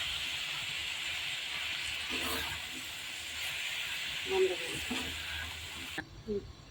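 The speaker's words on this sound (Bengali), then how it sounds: "চিচিঙ্গা ভাজি করতেছি।" Snake gourd (chichinga) frying in a pan at home, a steady quiet sizzle and hiss with faint stirring and clinks, cut off abruptly near the end.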